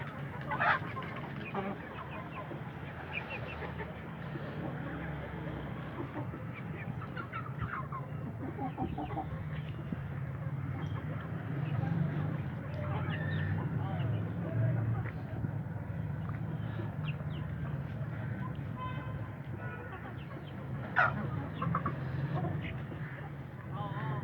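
A flock of hens clucks steadily while pecking at green leaves, a busy continuous chatter of close and farther birds over a low rumbling background.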